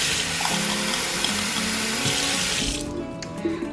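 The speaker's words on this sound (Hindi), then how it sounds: "let's pop it in the glass और इसमें कुछ पानी ऐड करते" Water runs steadily into a glass holding four ice cubes, a continuous close pour that cuts off near the end, with a few faint clinks after.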